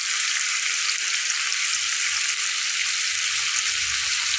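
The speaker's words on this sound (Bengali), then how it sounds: "বেশ উল্টে পাল্টে ওগুলোকে একটু ভেজে নেব লাল করে" Several fish fry together in hot oil in a frying pan, producing a loud, close, unbroken sizzling hiss that holds steady throughout, with no voices.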